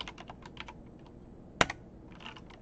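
Light, quick keystrokes tap on a computer keyboard in a quiet room, a soft run of clicks with one sharper, louder key press near the middle.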